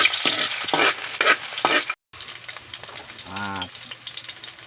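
Onion sizzles and is stirred in a frying pan, with crackling bursts and scraping strokes up close. There is a brief dropout partway through, followed by softer frying and a short burst of voice.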